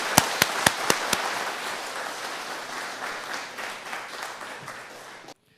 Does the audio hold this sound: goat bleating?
no